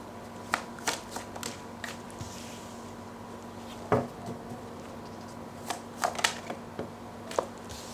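Tarot cards are shuffled and drawn for an Aries reading, producing sparse crisp snaps and flicks of card stock over a faint steady hum, with one louder riffle midway.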